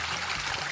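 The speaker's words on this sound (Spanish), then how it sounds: "¡Mira! Se va todo el agua por allí," Water drains out of a new backyard pool as a steady, close, broadband rushing trickle, continuous and fairly loud throughout the short stretch, with no voices over it.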